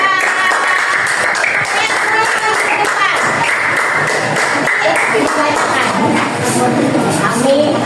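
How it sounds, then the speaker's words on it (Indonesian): Elementary school students in a coding and artificial intelligence class in Bogor clap for group 4, lively classroom clapping mixed with children's chatter and shuffling throughout. "Yuk, kasih tepuk tangan buat kelompok 4."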